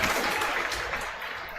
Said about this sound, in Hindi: एक बार इनकी सफलता के लिए जोर से ताली होनी चाहिए।